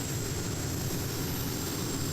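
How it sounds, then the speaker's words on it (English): A tractor-pulling machine driven by four Isotov jet engines taken from Russian helicopters, about 8,000 horsepower, roars at a competition in Herning. The engines give a steady, dense, loud jet howl that fills the whole moment. "But these jet engines come from Russian helicopters."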